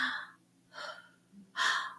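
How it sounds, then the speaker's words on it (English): Holotropic breathwork breaths, three audible airy inhales and exhales near the microphone, each a short rushing gasp, the last one deepest and loudest. "the idea is to breathe deeper"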